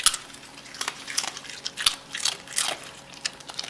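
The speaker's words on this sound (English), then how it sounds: "Listen to this crunch." Crisp, brittle crunches of biting into crispy food, several sharp bites in an irregular rhythm, close and clear with no talking.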